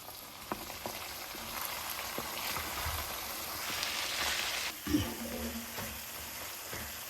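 Frozen grated coconut roasting in a pan after dry nuts, a steady close sizzle and crackle with a brief louder stir-like burst midway, no voices.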